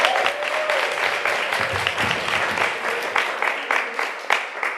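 Audience clapping after a literary reading, a steady wash of applause from a small crowd lasting several seconds, thinning slightly toward the end.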